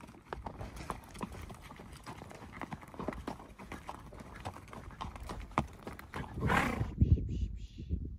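Hooves of a ranch horse named Crow clip-clop in a steady, fairly close rhythm on a cattle branding day, with a louder burst of movement near the end.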